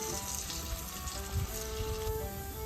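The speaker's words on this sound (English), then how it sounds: "You can flip them over and let them continue frying." Sweet potatoes frying in butter in a pan give a steady, close crackling sizzle with scattered pops, continuous throughout with no talking.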